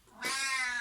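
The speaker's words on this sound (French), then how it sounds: "Donc c'est mon chat qui a 19 ans qui s'appelle Cannelle" A 19-year-old cat lets out a single clear, drawn-out meow close by, rising sharply after a quiet start and holding steady to the end.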